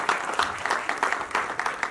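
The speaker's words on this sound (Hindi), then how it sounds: "तालियां एक बार।" Audience clapping at an album launch event, a moderate burst of claps with uneven pulses and a fairly close, lively texture, continuing through the moment.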